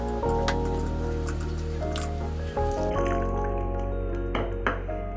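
Water is poured into a paneer finger batter and stirred in, giving soft wet squishing and dripping sounds close up, partly under background music.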